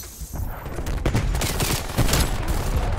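Gunfire from a shotgun in Call of Duty: Black Ops Cold War, loud and dense, with rapid overlapping blasts and reports that keep up for about three seconds with no voices.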